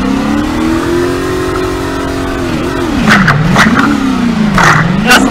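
Car engine in the Garry's Mod video game revving and accelerating, a loud continuous drone that rises, dips and swells again, with brief squeals near the end.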